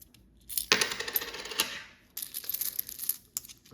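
Pound coins and a £2 coin tipped out of a thin cardboard cash-stuffing binder, a close burst of clinking metal and rustling card followed by a second rattling spill, quiet indoors with no talking.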